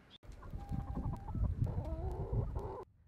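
Hens clucking and murmuring close by, with short rising calls and soft chatter layered over a steady farmyard hum, no talking.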